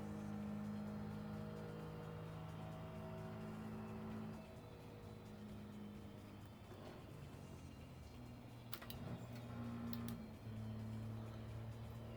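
A car engine in Gran Turismo held steady in fourth gear, a continuous tonal drone whose pitch shifts between held levels, with a few brief sharp clicks near the end and no talking.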